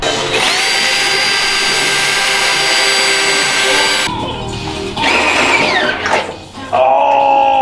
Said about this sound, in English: But for now, let's start drilling.